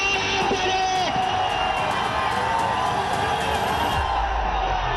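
A crowd of student protesters celebrates at Jantar Mantar in New Delhi, giving a loud, continuous wash of cheering, shouting and whooping voices that stays steady and dense throughout.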